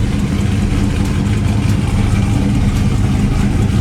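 A car that has sat unused, its engine running with a loud, steady low rumble and a slight uneven pulse throughout.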